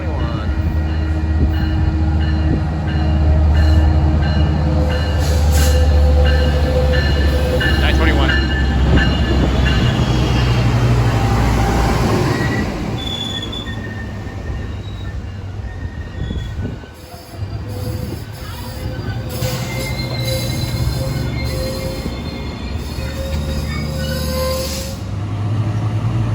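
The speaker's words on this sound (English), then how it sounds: "we got Metrolink 608 heading out of San Clemente now" Metrolink passenger train pulling out of San Clemente with a loud rumble, its wheels squealing in long high tones, close by and later easing off slightly.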